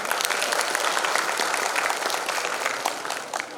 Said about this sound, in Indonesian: sekali lagi tepuk tangan buat teman-teman semuanya